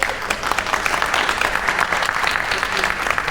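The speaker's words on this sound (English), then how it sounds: "So round of applause, please, for Rox." Warm, dense applause from an audience at a Samsung product event welcomes a presenter named Rox, steady and fairly close with crisp individual claps throughout.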